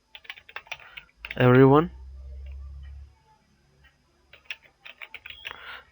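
Light clicky keystrokes on a computer keyboard come in brief bursts at the start and end, entering a short word into a web form, with a voice speaking and humming in between.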